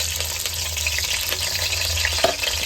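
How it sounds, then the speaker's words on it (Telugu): Curry leaves fry in about five ladles of hot oil for a Telugu crab curry, giving a steady, fairly loud crackling sizzle with scattered pops throughout. "ఆ నూనెలో ముందుగా ఒక కరివేపాకు వేసుకోండి కొంచెం."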